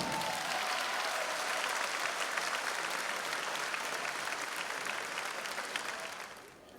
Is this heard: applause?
yes